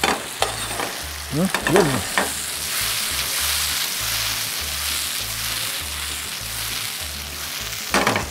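Tomatoes and basil fry in a pan for a fish dish, with a loud, steady hiss of sizzling and a few stirring scrapes early on.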